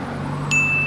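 A notification bell sound effect gives a single bright ding halfway through, then rings on as a clear sustained tone over a low background hum.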